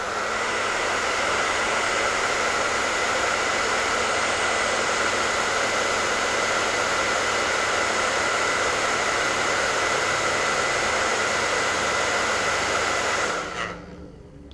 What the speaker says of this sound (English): I'm just going to use a heat gun. It's going to be a bit safer. And then we'll just shrink it down